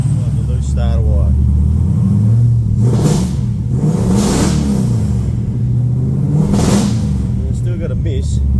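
A Mazda-engined Mako race car idles roughly with a persistent misfire, the engine revving in uneven swells and stumbles, loud and close with someone talking over it.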